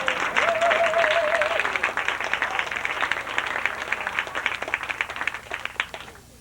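Audience applause at the 1991 NEFFA folk festival, steady, fairly close clapping that gradually thins into scattered individual claps before fading out, with a brief whistle-like tone early on.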